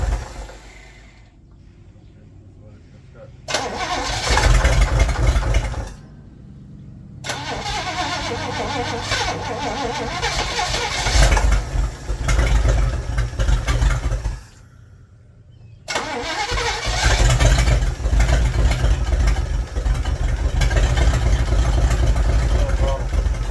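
A 1961 Chevy Impala four-door engine cranks and catches, running loud and rough up close, then cuts out twice into brief quiet before restarting and roaring on to the end.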